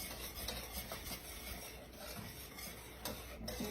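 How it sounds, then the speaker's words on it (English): Sugar and butter being creamed together for brownies, a steady gritty scraping and rubbing of a utensil through the thick mixture in a bowl, continuous and close with small rhythmic strokes. "I'm just gonna get this sugar and butter cream together"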